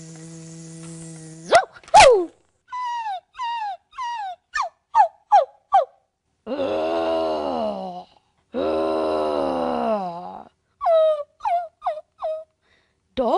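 A dog barks in short, repeated yelps, then lets out two longer whining howls, followed by another quick series of barks.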